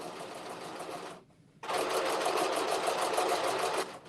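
A sewing machine fitted with a gathering foot runs in a fast, steady rapid-fire stitching whir, stops briefly, then restarts and keeps going up close.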